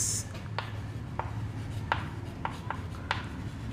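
Chalk or marker strokes on a classroom board during a Class 12 lesson on relations and functions, several short scratchy taps spaced irregularly over a quiet room background, no talk.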